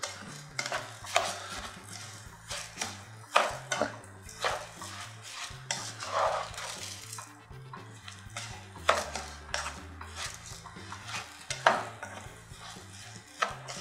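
Rice is stirred with onions in a hot pan, metal spoon scraping and clinking against the pot in irregular strokes over a faint sizzle, close and moderately quiet, no talking.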